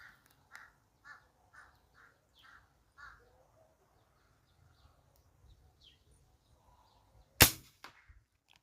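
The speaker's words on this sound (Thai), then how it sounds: "อีการะยะเจ็ดสิบเมตรครับ มาจ้องจะกินลูกไก่ครับ" A crow caws repeatedly in a quick series of harsh calls about seventy metres away, followed after a pause by a single sharp, loud gunshot.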